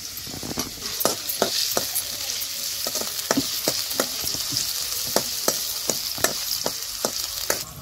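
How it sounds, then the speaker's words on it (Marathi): Boiled potatoes sizzle in hot oil in a kadhai for sago khichdi, a steady frying hiss with repeated sharp scrapes and knocks of a stirring spoon at close range, no talking. "आणि आता बटाटो शिजवून तेलामध्ये घ्यायचा।"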